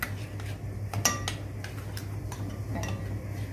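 A utensil stirs a cauliflower mixture with chopped coriander and parsley in a bowl, giving light irregular clinks and taps against the side over a low steady hum.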